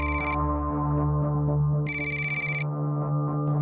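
A telephone ringtone rings in two loud bursts with a steady electronic tone running beneath them, with no talking.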